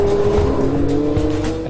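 A Devon GTX carbon-fibre supercar with an 8.4-litre, 650-horsepower V10 roars loudly at high revs, a sustained droning engine note close by with slight rises in pitch over under two seconds.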